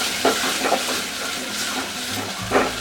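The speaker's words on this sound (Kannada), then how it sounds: "ಇಷ್ಟನ್ನು ಹಾಕಿ ಚೆನ್ನಾಗಿ ಫ್ರೈ ಮಾಡ್ಕೋಬೇಕು" Tomato fries in an oil tempering for rasam with a dense, steady sizzling hiss, broken by a few soft stirring scrapes, close by and without speech.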